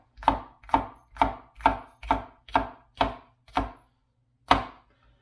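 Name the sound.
cutting the ends off vegetables with a knife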